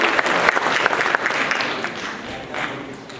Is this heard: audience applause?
yes